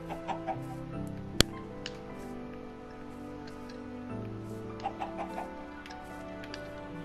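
Short clucks from a Minecraft chicken come in scattered bursts over a steady, continuous game background, with one sharp click partway through.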